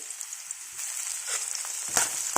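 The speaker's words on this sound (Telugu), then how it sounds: "ఆయిల్ వేడైన తర్వాత ఆనియన్స్ వేద్దాం ఇప్పుడు ఆనియన్స్ వేద్దాం" Onions dropped into hot oil for a drumstick-leaf curry, a faint steady frying hiss with small crackles and a couple of louder spatters toward the end, and no talking.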